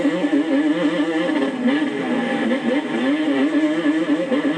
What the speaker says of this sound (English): That two-stroke sound. He's on the pipe, people.